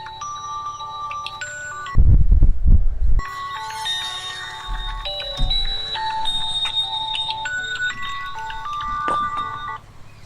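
An electronic ringtone plays a repeating melodic tune, close and fairly loud, with a short burst of low rumbling noise partway through.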